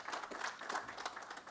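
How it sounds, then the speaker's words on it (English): Audience applause for a frontline worker just vaccinated at Hackensack University Medical Center, a soft continuous patter of clapping from a modest crowd, faint and slightly distant, with no voices. "So let's give her a round of applause."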